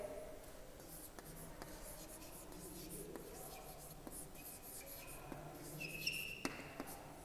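A teacher writes a word on a classroom board, faint scratchy marker or chalk strokes and light taps in a quiet room, with a few sharper knocks toward the end.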